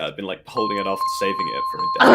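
A steady two-tone alarm rings under and between a person's casual talk, then louder bursts at the end.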